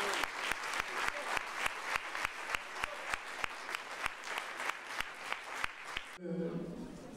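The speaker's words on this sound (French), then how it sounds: "ils méritent aussi un chaleureux applaudissement" Warm audience applause at a church retreat gathering, fairly close and steady with a rhythmic beat running through it for about six seconds before it stops and a voice begins speaking.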